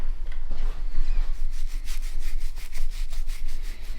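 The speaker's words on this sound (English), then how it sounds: "Just using a little brass brush to just take some of the moss off the nibari, these surface roots" A small brass brush scrubs moss off the exposed surface roots of a Japanese maple bonsai, giving steady, close scratchy rubbing strokes in a quick repeating rhythm with no talk.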